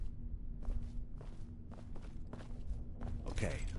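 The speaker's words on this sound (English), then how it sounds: "I hear big fat footsteps on the other side" Heavy footsteps on the other side of a locked door in Fallout 4, a series of muffled thudding steps at an uneven pace over low game ambience, with a voice speaking over them.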